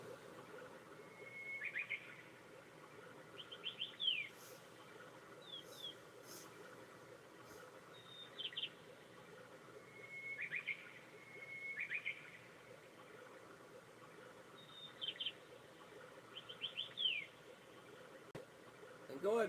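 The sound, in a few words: birds chirping and river running, played on projector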